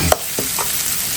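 Crab gravy of blue crab and rock crab, Kerala style, simmering with tamarind and ground coconut, giving a soft bubbling sizzle with a few brief stirring clinks near the start.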